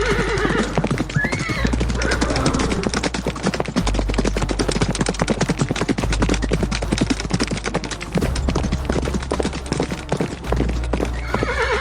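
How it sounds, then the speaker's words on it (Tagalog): Horses neighing and galloping away, dense rapid hoofbeats with whinnies over a loud, busy background that never lets up. "Wika ni Erlana, sabay patakbo nito ng kabayo."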